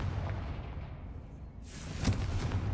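A Confringo blasting spell detonates in Hogwarts Legacy with a sudden broadband whoosh and boom, then a second sharp impact crack follows moments later over a steady low game rumble.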